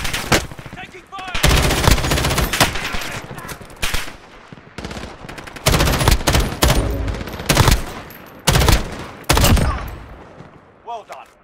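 Sustained automatic gunfire and bursts of shots in the Call of Duty Warzone video game, loud and dense, with brief gaps between volleys.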